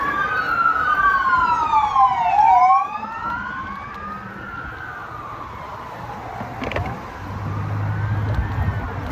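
A wailing emergency siren sweeps up and down in long cycles, fairly close and loud over steady road noise, with a second siren tone joining near the end.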